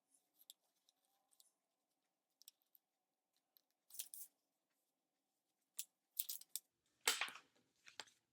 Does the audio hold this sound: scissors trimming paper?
yes